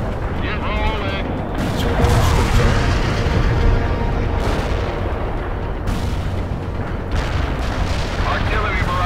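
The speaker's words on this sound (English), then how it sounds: "Artillery barrage in for full effect." Artillery barrage in World in Conflict, a sustained roar of heavy booms and explosions rolling on for several seconds, with a voice speaking over the battle noise.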